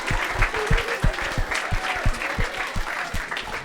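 A room of secondary-school students gives a brief, lively round of applause for athlete Solène Gicquel after a talk, with dense, fast clapping that stays steady and fairly close.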